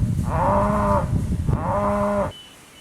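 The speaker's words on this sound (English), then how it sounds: "It's an irritated cow over here." An irritated cow lowing twice near a grove of Brazil nut trees, each moo a long harmonic call about a second long, close and loud with a short pause between them.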